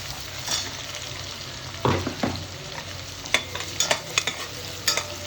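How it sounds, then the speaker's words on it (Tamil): Onions frying in oil for kuska, stirred repeatedly until golden brown; a steady sizzle carries scattered scraping spoon strokes against the pan, close and clear with no voices. "கலந்து கொடுத்து அது கோல்டன் ப்ரௌன் ஆகிற வரைக்கும் வெயிட் பண்ணுங்கள்"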